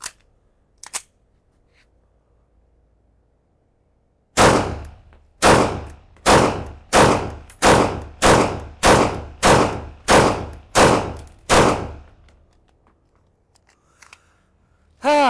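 A Canik TTI Combat pistol fired in a string of about ten sharp, loud shots at a steady pace of roughly one per second, close to the microphone, after a quiet stretch with a couple of faint clicks.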